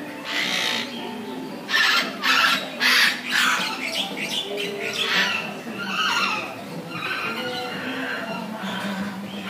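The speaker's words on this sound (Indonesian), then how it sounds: "Jalak biru" Blue starling (jalak biru) at a zoo giving repeated harsh squawking calls in bursts, fairly loud and close, over a busy background with faint voices.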